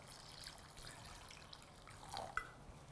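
Water is poured into a thick vegetable sweet corn soup in a pot, a soft liquid trickle with a few splashy drips, faint and brief, with no talking.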